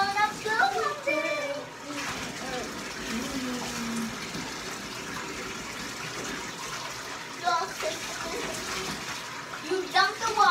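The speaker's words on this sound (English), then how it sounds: "You dump the water over her body." Water pours and splashes over a baby in a bathtub in uneven gushes while voices talk over it.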